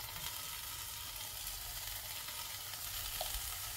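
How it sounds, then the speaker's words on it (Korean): Scallions stir-fry in a hot pan with beaten egg added, giving a soft, steady sizzle that stays faint and continuous with no voices. "파를 볶은 다음 계란 풀은 것을 넣어주세요"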